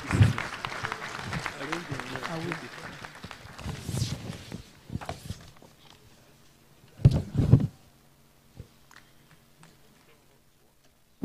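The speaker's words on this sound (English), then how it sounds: "Can we give a louder round of applause," Audience applause at a public lecture, a burst of clapping and crowd noise at the start that fades within a few seconds, followed by quieter room sounds, a brief murmur of voices and a scattered clap.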